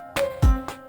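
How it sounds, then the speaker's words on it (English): A few short synthesized notes play a quick pentatonic melodic phrase, each with a sharp attack, one landing on a deep booming low hit. "I added some melody using the pentatonic scale"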